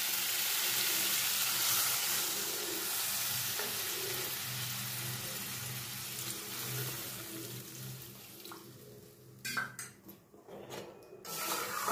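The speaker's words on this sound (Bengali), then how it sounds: "জলটার সঙ্গে মশলা বা কচু আলুটাকে আমি মিশিয়ে দিলাম" Water is stirred into fried masala with taro and potato for a koi fish curry, giving a loud, continuous close sizzle that eases off before a few sharp utensil knocks against the pan.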